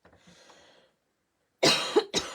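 A few loud, close coughs burst out in quick succession after a quiet stretch, the last one short and separate.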